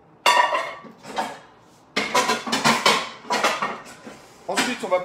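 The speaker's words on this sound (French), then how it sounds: "On va prendre une casserole comme ça." Metal cookware clanks and scrapes in several bursts, a saucepan for cooking eggs being picked up and knocked against other dishes close by.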